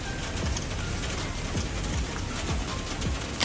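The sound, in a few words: rain falling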